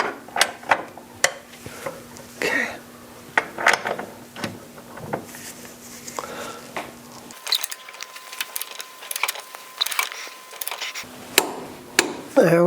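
Mechanical clicks, ratcheting and metallic knocks come in irregular bursts as a torque wrench tightens 19 mm-head suspension bolts on a Ferrari 308, close up, with a faint steady hum in the background and a voice briefly under the work.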